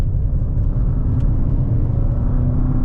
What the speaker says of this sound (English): you got this sudden rush of boost, this surge that pushes you from behind